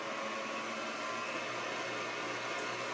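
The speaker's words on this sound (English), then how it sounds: "So I want to let it whisk" An electric mixer whisks cream toward soft peaks for lemony blueberry scones, giving a steady, loud whirring drone that holds unchanged throughout with no talk over it.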